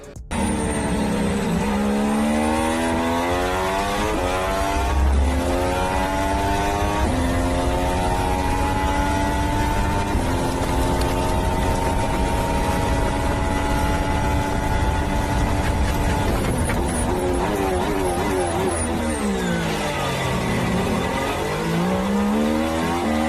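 A Ferrari Formula One car with a new engine screams past, its loud raspy note rising and falling through gear changes, dropping in pitch as it passes and climbing again, continuous and close with no talk.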